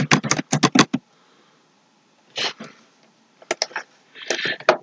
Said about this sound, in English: Keyboard clicking sounds like a travel agent.